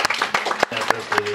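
A Protestant church congregation in Herentals applauds to welcome an elder. Scattered claps ring out through a wash of voices and sustained musical tones, moderately loud and uneven.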